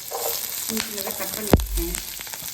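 Mustard seeds, onion, green chilli and chopped carrot sauté in oil in a kadai, a soft sizzle running under a few spoken words, with a sharp clatter near the middle.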